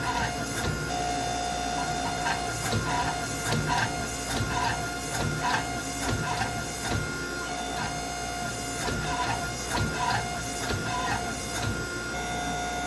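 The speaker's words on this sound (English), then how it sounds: "I squish the steel under my 25-ton press to bond everything together" Hydraulic 25-ton forging press squeezing a hot Damascus steel billet, a steady loud mechanical drone with a constant tonal whine and repeated clanking, hissing bursts throughout.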